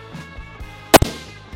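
A single sharp, loud crack from a custom precision rifle fires once in the middle, followed by a quick echo, with quiet ambience before and after and no speech.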